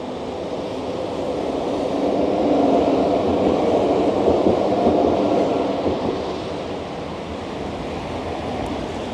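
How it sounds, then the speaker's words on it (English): On a cold, very foggy day a tram approaches with a broad, steady rumble that swells toward the middle and eases off a little, with no voices. "Here comes the tram in the fog."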